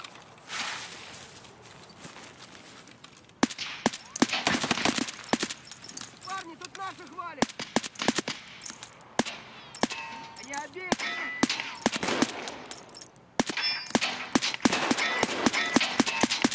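SVT-40 rifle fire in Escape From Tarkov comes as a run of sharp, loud shots in uneven bursts, mixed with metallic clanks and footsteps, while a voice talks between the shots.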